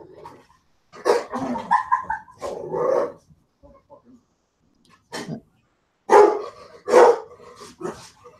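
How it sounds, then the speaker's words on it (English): A large dog barks deeply and loudly in several bursts with pauses between them, close by, with little else around. "That sounds like a big dog"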